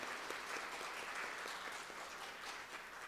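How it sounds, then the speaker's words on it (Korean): Church congregation applauding during a Sunday worship service, welcoming a newly appointed choir conductor; steady, dense clapping from many hands sustained throughout, fairly soft and even with no voices over it. "열심히 하라고 우리 한번 격려해서 박수 한번 하도록 합니다"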